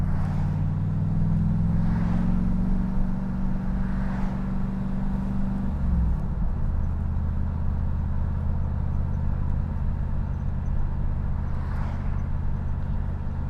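Chevrolet Camaro engine running steadily, pitch dropping as a gear shift happens midway, then a continuous loud droning hum close by, no talking.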